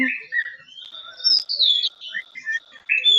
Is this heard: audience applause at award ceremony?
no